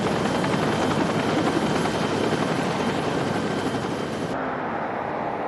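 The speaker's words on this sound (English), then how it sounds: "20-year-old Matt Enriquez was taken by Care Flight helicopter to a nearby hospital." A Care Flight medical helicopter's rotor thumps and engine roar fill the air continuously, loud and steady, with the sound dropping slightly near the end.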